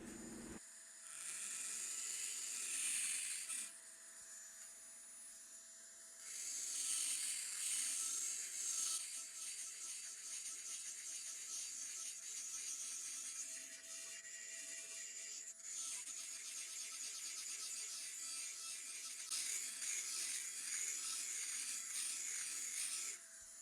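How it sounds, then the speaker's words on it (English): Small NSK micromotor spinning a 6mm carbide burr on a 3mm shank, grinding metal off a drill bit: a high, steady whine with bursts of louder rasping as the burr bites, in several surges over about twenty seconds. "A 6mm carbide burr with a 3mm shank in my NSK micromotor, and let's go"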